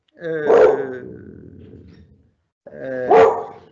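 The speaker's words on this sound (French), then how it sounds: "il y a mon chien qui me pose quelques problèmes" A dog barks twice, loud and close, in a quiet indoor setting, the two deep, rough barks separated by a pause of about two seconds.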